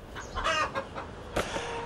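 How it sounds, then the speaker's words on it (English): Chickens kept in a garden at a bed and breakfast cluck and squawk in a short burst of several calls, fairly close and clear, with no speech. "from our own chickens out in the garden there"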